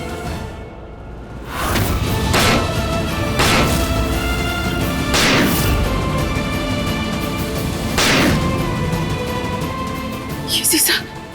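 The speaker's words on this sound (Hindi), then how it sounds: "अब हम ये शीशा तोड़कर जीत को बाहर निकालेंगे।" A glass pane is struck repeatedly in an attempt to break it, giving several loud, sharp impacts spaced a couple of seconds apart over a continuous backdrop of dramatic sound, with a brief high clatter near the end.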